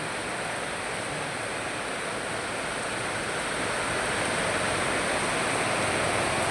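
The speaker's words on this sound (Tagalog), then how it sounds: "Tunay talagang binuhos ng langit yung ulan." Heavy rain pours down in a dense, unbroken roar of steady hiss that builds slightly louder over several seconds, with no voices.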